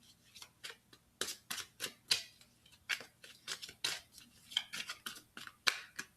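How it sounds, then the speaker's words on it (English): Tarot cards shuffled by hand at close range, a run of crisp riffling slaps and flicks repeating in quick irregular bursts, alone without talk. "I'm gonna give it a few more shuffles and then we'll just pull a card"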